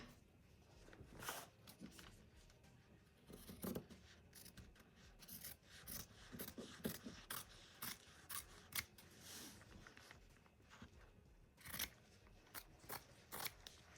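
Scissors cutting fabric backed with Heat and Bond, close and quiet, making repeated crisp snips and rasping slices in an uneven rhythm with no talking.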